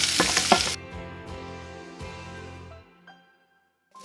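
Green chilies and onions hitting hot oil in a pan, a loud burst of sizzle at first that settles into a softer, fading fry before going nearly silent.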